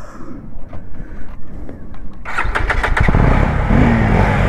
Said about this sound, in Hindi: तो अब हम चलाने जा रहे हैं RC और भाई चलाने जा रहे हैं जावा बबर।